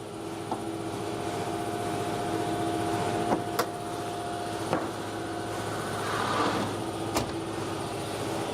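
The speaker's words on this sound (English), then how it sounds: "And of course the compressor goes off again." An air compressor in a workshop hums steadily at moderate level through the whole stretch, with a few faint clicks and knocks from nearby work and no talking.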